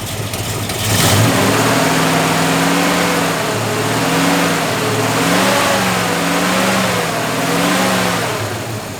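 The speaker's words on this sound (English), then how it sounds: "did you see the way I revved it and then lightly came off the throttle and then went back into the throttle?" A car engine revs up from idle, eases back as the throttle is lightly released, then climbs again, the tone rising and falling in smooth repeated swells, close and loud with no talking.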